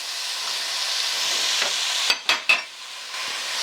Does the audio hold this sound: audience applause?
no